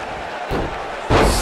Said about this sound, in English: Slammed with authority